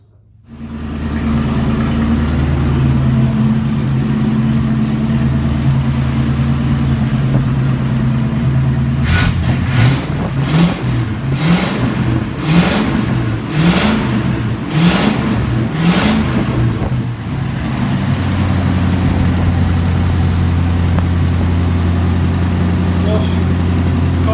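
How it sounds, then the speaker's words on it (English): A 1963 Ford Galaxie engine idles with a low, steady chug, gets revved in a quick series of bursts midway, then settles back to idling. "the first time I've heard the car sit here and run and idle under its own power"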